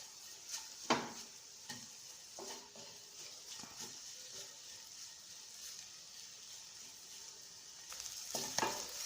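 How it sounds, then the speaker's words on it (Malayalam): Chili powder sizzles and fries in a pan while being stirred for a brinjal and lady's finger curry, a steady close hiss broken by scraping stirs and a few sharper knocks, with no talking. "മുളക് പൊടിയൊക്കെ ആ പച്ചമണം മാറുന്നവരെ ഒന്ന് ഇളക്കി കൊടുക്കുക"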